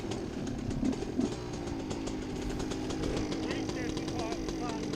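A dirt bike engine runs steadily nearby, a droning buzz that holds fairly even with small surges, while people talk over it.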